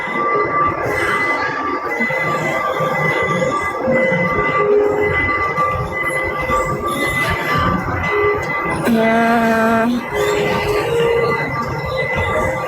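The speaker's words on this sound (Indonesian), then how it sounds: "Ini naik kereta." A train passes with a steady loud rumble, the wheels giving off sustained squealing tones and a short horn-like sounding near the middle, under chatter from people nearby.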